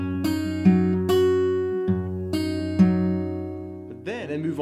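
An acoustic guitar plays the first section of a song, thumb picking bass notes. Plucked notes and chords ring out one after another at a slow, deliberate pace, close and clear, with no talking.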